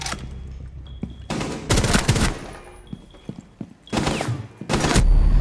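Gunfire in Rainbow Six Siege: several loud bursts of rapid shots come in separate clusters, with quieter gaps of thuds and mechanical clicks between them.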